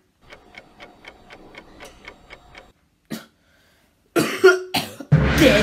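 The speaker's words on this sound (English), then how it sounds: "Did you just cough in detention?" In a school detention room, a steady ticking timer runs for a few seconds, then stops; after a pause comes a short cough, followed by louder bursts of noise.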